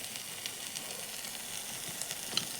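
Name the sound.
masala with water sizzling in separating oil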